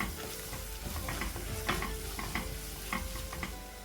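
Onions with ginger garlic paste frying in a pan for Kerala-style vegetable pulao, a continuous close sizzle with repeated spoon scrapes and taps as it is stirred.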